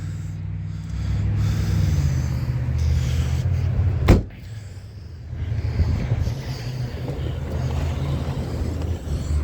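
A 2011 Chevy Malibu trunk releases with a single sharp click or thump partway through, over a steady low outdoor rumble and wind.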